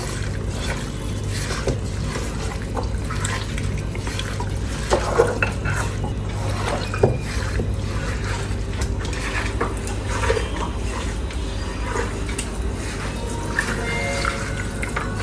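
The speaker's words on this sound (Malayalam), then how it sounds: "ഇനി ഇത് നമുക്ക് കൈകൊണ്ട് നല്ലപോലെ മിക്സ് ചെയ്തെടുക്കാം" Small onions, chili powder, lemon juice and coconut oil mixed by hand in a bowl, making continuous soft squelching and stirring with occasional light clinks against the dish, close and steady, with no talking.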